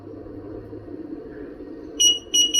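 Two pairs of sharp, high electronic beeps sound loudly near the end from a device being powered up after a mainboard replacement, following a stretch of low mechanical hum.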